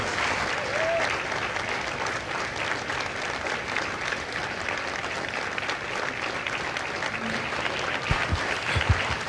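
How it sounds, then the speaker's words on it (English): Sustained applause from a graduation audience honoring new Marines at Fox Company's ceremony at MCRD San Diego, a steady dense clapping wash lasting throughout, with a few sharp louder claps near the end. "Ladies and gentlemen, a round of applause for their dedicated service to Corps and country."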